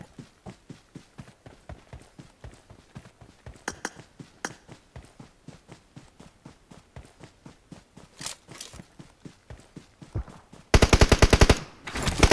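Rapid, regularly spaced gunshots from a PUBG match crack out in a long rhythmic series, followed by a denser, louder burst of automatic fire near the end, with no talking.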